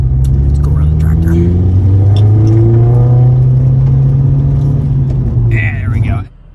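A car pulls out to overtake a slow tractor on a country road, its engine loud and close from inside the cabin, revving up in a long, rising pull before cutting off abruptly at the end.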